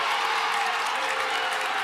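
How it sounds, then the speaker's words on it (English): A fired-up crowd at a girls' high school basketball finals game roars and applauds, a dense, steady wash of cheering and clapping filling the gym with no breaks. "This is one fired up crowd."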